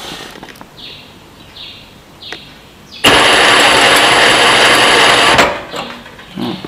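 A sewing machine fitted with a new servo motor in place of its old clutch motor runs at 3000 RPM, giving a loud, steady whir for about two and a half seconds that starts abruptly and then fades, with quieter bird-like chirps before and after.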